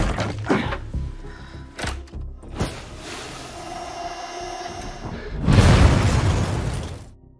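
Sharp bangs and thuds ring out, then a big, loud blast with a rumbling roar that fades away at the end.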